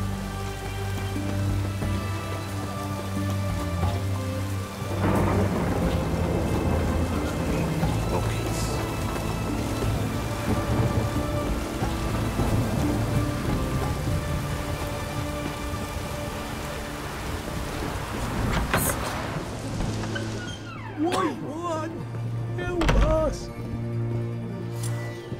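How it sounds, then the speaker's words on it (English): Steady rain falling in The Witcher 3 video game, a continuous hiss of drops beneath game music and talking voices. "It's raining, of course it's going to be damp."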